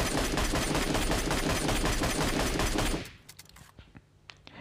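An MK12 rifle fires in a video game as a rapid, loud, continuous burst of gunshots for about three seconds, then stops and leaves a few faint clicks.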